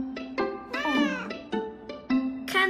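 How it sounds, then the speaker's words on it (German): A house cat meows repeatedly, several distinct drawn-out cries of varying pitch in close succession, close to the listener and fairly loud, with no other voices. "Nein, Conny, die Katze müssen wir wirklich wieder rauslassen"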